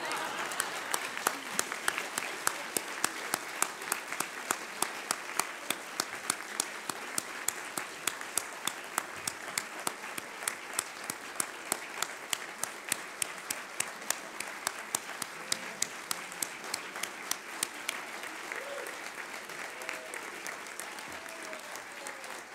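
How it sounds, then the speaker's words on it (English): An audience at a National Press Club talk gives a long round of applause, many hands clapping in a steady, even rhythm for about eighteen seconds before thinning and fading out. "Could we give a nice round of applause?"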